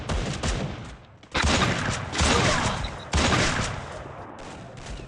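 A Barrett M82B sniper rifle fires in Free Fire, with loud, dense bursts of gunfire. Two sharp, booming onsets stand out among sustained rattling shots and echoes, close and forceful.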